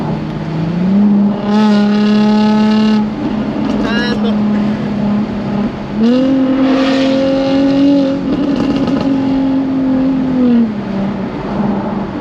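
A Jaguar F-Type convertible (X152) engine, exhaust off, in manual mode, drones and revs in sustained high-pitched pulls above 4,000 RPM, rising and holding, with brief shifts between, loud and close.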